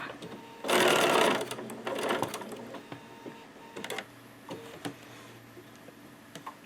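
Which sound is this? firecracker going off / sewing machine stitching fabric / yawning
sewing machine stitching fabric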